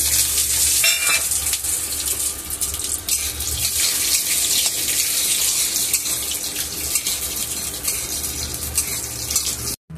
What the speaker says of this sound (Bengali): একটুখানি ভেজে নেব, ছেড়ে দিলাম।